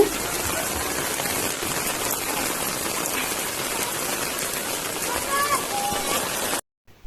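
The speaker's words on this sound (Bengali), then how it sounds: "আর দেখেন প্রচুর পরিমাণে বৃষ্টি হচ্ছে" Heavy rain pours steadily over a house with a large swimming pool, a dense continuous hiss of drops hitting surfaces that holds at full strength before cutting off abruptly near the end.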